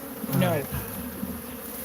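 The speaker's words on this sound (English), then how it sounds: "These are killer bees." Killer bees buzz close by, swarming against a phone. The swarm's drone rises briefly to a louder pass, and a voice says a single short word.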